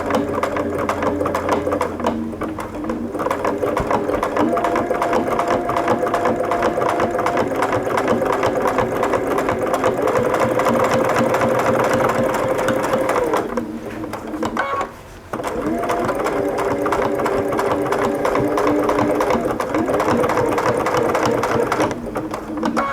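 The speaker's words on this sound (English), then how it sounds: "Then fold the next edge over and begin stitching it along and continue around all 4 edges." A sewing machine stitches around the fabric edges of a homemade pin cushion, its steady rapid mechanical whir running almost continuously, with a brief pause partway through as the fabric is turned.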